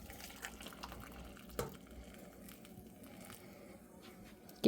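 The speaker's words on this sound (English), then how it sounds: "I can pour my cup of tea." Hot tea poured from a whistling teapot into a cup, a soft steady liquid trickle with a brief splash, quiet and close with no talking.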